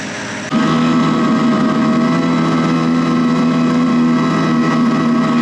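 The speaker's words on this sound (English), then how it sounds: "most blenders would have totally bogged down there" A blender motor straining as it churns thick homemade Dijon mustard, switching on abruptly and holding a loud, steady droning whine for several seconds with no talking.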